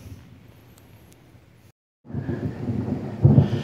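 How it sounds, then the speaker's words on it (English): A quiet patter of rain gives way to a brief silence, then a deep, loud rumble of thunder rolls in and swells near the end. "You probably missed that really loud thunder that just happened."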